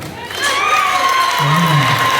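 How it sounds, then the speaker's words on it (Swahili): An audience at a choir launch event applauds with dense clapping and cheering all through. Voices call out over it, and one voice sings or shouts in a rising tone. "Makofi kwa kakaangu."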